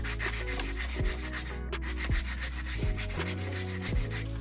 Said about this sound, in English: what I'm gonna do is just try to sand this down a little bit